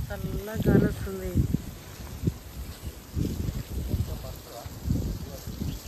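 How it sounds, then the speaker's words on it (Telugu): Cool wind blows across open farmland before rain, a steady rushing noise with gusty buffeting on the microphone, while a person speaks at the start. "చల్లగా గాలి వస్తుంది."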